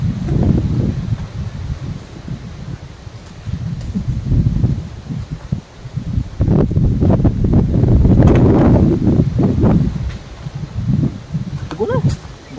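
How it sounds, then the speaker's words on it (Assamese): Strong wind buffeting outdoors among banana trees in the rain, a loud continuous rushing roar with gusts that rise and fall, heard mostly without speech. "পুৰা বতাহ"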